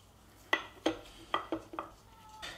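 Spoon clinking against a bowl while marjoram, salt, pepper and lemon zest are mixed for Alaska cod sausages: a handful of sharp, close taps spaced irregularly, fairly quiet overall.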